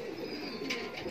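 A large Ferozpuri female pigeon gives a soft, brief coo, faint and low, over quiet background noise.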